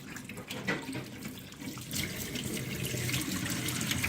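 Water pours steadily to rinse sludge out of the coolant tank of a Mk1 Audi TT, a continuous close splashing rush that grows slightly fuller toward the end.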